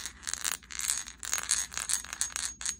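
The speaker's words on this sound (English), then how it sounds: "Little bit of sing, little bit of clack, but definitely sings." Natural Lemurian quartz crystal tapped repeatedly, giving bright ringing tones that sing and sustain between sharper clacking strikes, a steady run of close, moderately quiet hits with no talking.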